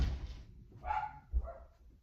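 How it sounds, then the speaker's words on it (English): A dog gives a few short, muffled barks from somewhere indoors. The barks sound somewhat distant and fairly quiet, with a faint thump between them. "I'm gonna open my door because my dog won't be quiet."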